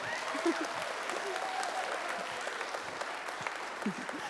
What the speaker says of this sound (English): yes, you please do clap for Sheila.